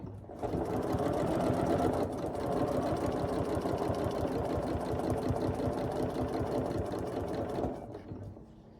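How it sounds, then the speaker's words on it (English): A sewing machine runs steadily for about seven seconds, stitching straight down the center line of a fabric mug rug, its needle whirring in a fast even rhythm close by, then slowing and stopping near the end. "we're just going to sew right down that center line"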